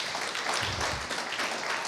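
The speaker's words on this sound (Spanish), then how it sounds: "Dale un fuerte aplauso." A church congregation breaks into loud, sustained applause, a dense wash of clapping filling the whole moment without pause.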